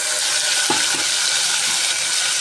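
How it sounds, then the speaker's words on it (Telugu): Ingredients for menthi aaku pappu, a fenugreek-leaf dal, sauté gently in hot oil, giving a steady broadband sizzle with a couple of soft utensil taps near the start. No one speaks. "ఇప్పుడు ఇది బాగా ఆయిల్లో మగ్గాలండి"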